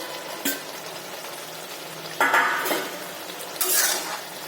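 Chicken being stirred with spices, onion and capsicum in a pan for a lemon butter sauce dish, with a few scraping strokes of a spoon against the pan over a faint sizzle, no talking.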